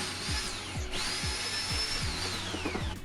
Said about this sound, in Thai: สาเหตุที่ต้องคว้านเนี่ยเพราะว่าปุ๊กมันจะตัวใหญ่กว่า สว่านนิดหน่อยนะ ก็เลยต้องคว้าน